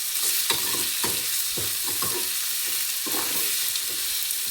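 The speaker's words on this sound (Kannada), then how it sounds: "ಟೊಮೊಟೊ ಕೂಡ ಸ್ವಲ್ಪ ಫ್ರೈ ಆಗಲಿ ಇದರಲ್ಲಿ." Tomato frying with spices in a pan for a sprouted horse gram sambar, a steady loud sizzle with regular scraping stirs of a spoon about once a second, close up and with no talk.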